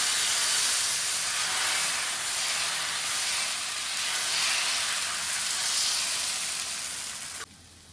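A hot dosa griddle greased with oil hisses loudly and steadily at close range, a broad rushing sizzle that holds for several seconds and then drops off abruptly near the end.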